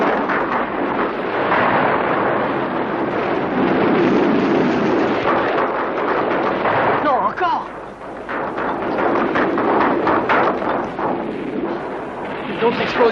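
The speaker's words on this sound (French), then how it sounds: "D'autres explosions de cette violence et l'île va s'engloutir." Violent explosions rumble across an island in a Tintin cartoon, a dense, continuous roar of blasts and crashing debris that fills the whole stretch, with a voice speaking briefly partway through.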